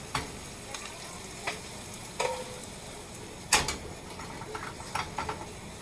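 Philly cheesesteak meat and melting cheese sizzle and fry in a pan with a constant hiss, broken by occasional scrapes and clinks of a utensil stirring against the pan.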